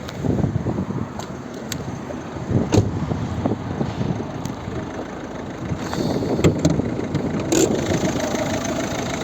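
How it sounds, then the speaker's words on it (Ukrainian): A 2010 Volvo V50 1.6 diesel engine runs steadily nearby with a low rumbling drone and a few faint clicks, with no one talking. "подивимось, як працює у нас двигун."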